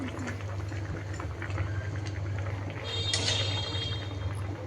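A pot of rohu fish curry with cauliflower, potato and beans simmers, bubbling quietly and steadily over a low hum. A brief sharper clink or hiss rises near the end.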